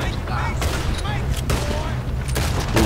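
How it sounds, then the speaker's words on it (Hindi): Gunfire crackles in Red Dead Redemption 2 during a train robbery shootout, several sharp shots spread through a dense, loud game background while someone talks over it. "वो जल्दी से गोली चला"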